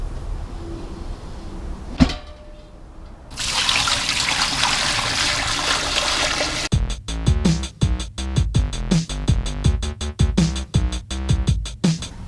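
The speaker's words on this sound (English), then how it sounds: "You can hear it dripping down here." Water dripping and trickling down inside a Berkey gravity water filter fitted with new improved fixed filters, a close run of quick irregular drips following a rushing pour.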